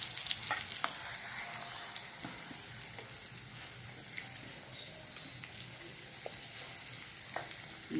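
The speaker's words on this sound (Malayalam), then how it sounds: "നമുക്ക് നന്നായിട്ട് വറുത്തെടുക്കാം." Snakehead river fish frying in hot oil: a steady, close sizzle with scattered pops and crackles that runs the whole time, with no talking.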